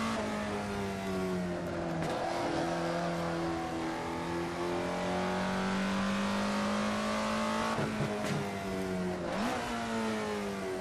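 Racing car engine in Assetto Corsa, a small roughly 240-horsepower machine revving toward 9,000 RPM, held loud and close with a steady droning pitch, the revs dipping and rising sharply near the end, crackling backfires on the overrun.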